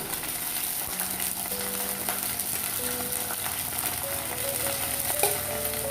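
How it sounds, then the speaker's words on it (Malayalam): Curry leaves, green chili and ginger frying in hot coconut oil for a Kerala sardine curry, a continuous close sizzle with faint crackles and a few brief tonal beeps in the background, no talking. "വെളിച്ചെണ്ണ നല്ലോണം ചൂടായി നമുക്ക് ഈ കറിവേപ്പില ഇതിലേക്ക് ചേർത്ത് കൊടുക്കാം പച്ചമുളക് ഇഞ്ചി"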